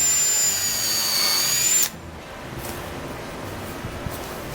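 A power drill whines loudly for about two seconds while driving screws into plywood stiffeners on a kiteboard rocker former, then cuts out, leaving quiet handling noise and faint shuffling.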